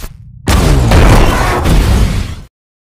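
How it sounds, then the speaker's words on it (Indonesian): A bomb explodes on the Hermes spacecraft in the film The Martian, one loud, deep, sustained boom that rumbles for about two seconds before cutting off abruptly. "dan tak lama ledakan pun muncul yang membuat pesawat Hermes terbang mendekati Mark"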